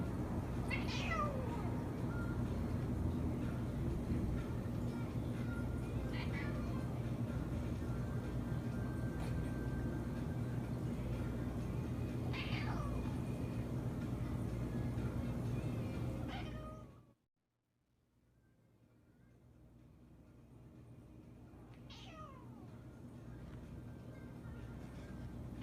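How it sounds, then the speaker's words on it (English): Several cats meow and cry at a door in repeated, drawn-out calls spaced several seconds apart, over a steady low background hum that briefly drops out before the cries resume. "the cats gather at the door, crying"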